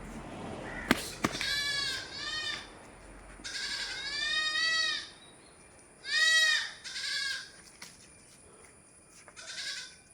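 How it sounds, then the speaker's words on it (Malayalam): A large cross-bred goat in her second kidding bleats loudly and repeatedly at close range, with several drawn-out wavering calls spread across the stretch and short pauses between them. "2ാം പ്രസവത്തിലുള്ളൊരു ക്രോസ് ബീഡ് വലിയ ആട്."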